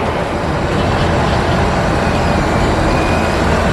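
Worn shuttle buses at O'Hare airport make a dense, steady roar of engine and road noise, loud and close throughout with no voices.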